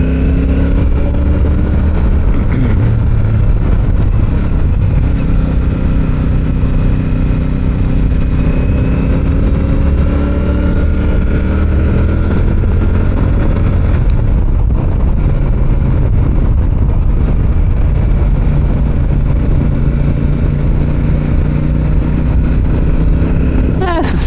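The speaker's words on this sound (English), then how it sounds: "First gear, wind it all the way out." A Royal Enfield Super Meteor 650 motorcycle climbs in first gear with its engine wound out, a loud continuous roar with rising pitch sweeps, heavy wind buffeting throughout.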